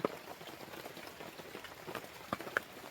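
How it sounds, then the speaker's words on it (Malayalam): Faint, steady patter of rain with scattered louder drops landing nearby, continuous and soft throughout. "മഴ പെയ്യണത് കണ്ടാ"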